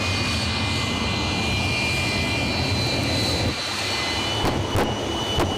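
An aerobatic propeller plane climbs and loops at the WBCA Stars and Stripes airshow, its engine a loud, continuous drone with a steady outdoor roar throughout.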